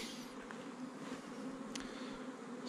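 Steady, close buzzing of many bees droning together around a hive, with a low continuous hum and a couple of brief louder passes.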